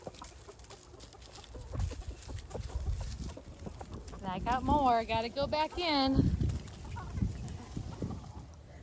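Backyard chickens cluck and call while being fed scraps of pumpkin insides and apple cores, with a short burst of louder clucking midway and a person talking nearby.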